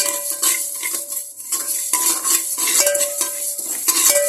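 Fenugreek and fennel seeds are stirred and dry-roasted in a pan, metal utensil clinks and scrapes sounding close and fairly loud over a light sizzle, with no talking.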